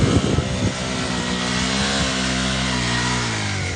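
A dirt bike engine revs hard as it struggles up a steep, slippery forest slope with its tyres slipping. A loud choppy burst opens into a sustained, strained drone that rises slightly in pitch.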